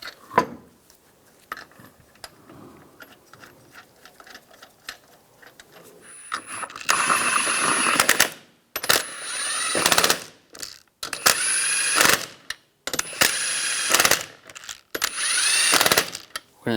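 Lug nuts being fastened onto a Toyota Prius front wheel with a power tool, in bursts of loud whirring and ratcheting separated by short pauses, after a quieter stretch of handling.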